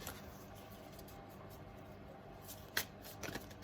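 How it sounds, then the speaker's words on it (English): A new, stiff deck of tarot cards is shuffled quietly at close range, with soft riffling and a few sharper card snaps toward the end. "I'm going to be shuffling it a lot, trying to like wear it down"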